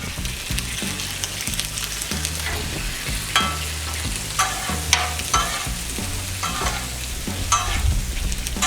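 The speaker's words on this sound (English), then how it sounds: "Now let's go ahead and add in our shrimp." Shrimp hit a spicy stir fry on a 36-inch Blackstone griddle, setting off a loud sustained sizzle with repeated spatula scrapes and taps clattering across the hot flat top, with no talking.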